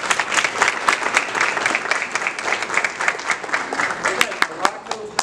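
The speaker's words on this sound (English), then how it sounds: "let's give these young ladies a round of applause" Audience applause at a school board meeting for a girls' track team of district and region champions: a steady room-wide round of clapping, moderately loud with sharp individual claps and a faint voice underneath.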